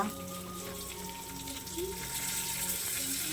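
Curry leaves spit and crackle in a hot pan, a steady broadband sizzle that swells louder halfway through, with a faint background hum and no talk.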